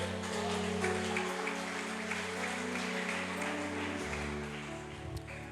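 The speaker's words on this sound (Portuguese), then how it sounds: "dê um aplauso ao Senhor" A church congregation claps in praise during an evening worship service, a steady, moderately soft patter of many hands over a sustained low organ or keyboard drone that shifts pitch near the end.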